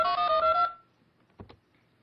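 A telephone keypad sounds a rapid run of dialing tones, clear and loud for under a second, then falls quiet apart from a couple of faint clicks from the handset.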